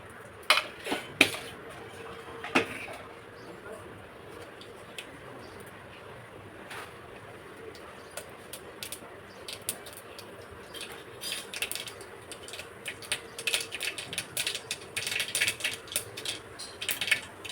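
Rapid, irregular crackling and popping of mustard seeds spluttering in hot oil in a pan, sharp sizzling bursts that thicken toward the end, with faint clinks of utensils.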